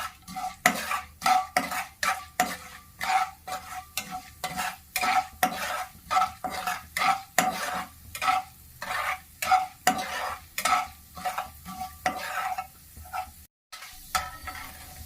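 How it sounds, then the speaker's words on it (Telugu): Chana dal and urad dal being fried and stirred in a pan, heard as a steady run of rhythmic scraping strokes over a soft sizzle, close and fairly quiet with no talking. "శనగబాడలు 1 టేబుల్ స్పూన్ వేయండి. ఉద్దిబేడలు 1 టేబుల్ స్పూన్ వేయండి. ఇవి దోరగా వేయించుకోండి."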